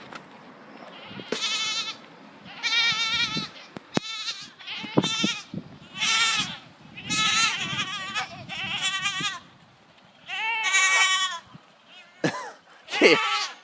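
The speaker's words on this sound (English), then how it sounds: "Let's give the rest of these scraps to these goats." Goats bleat repeatedly and loudly at close range while being fed leftover melon scraps outdoors, with overlapping wavering cries in quick bursts and a brief cough-like snort.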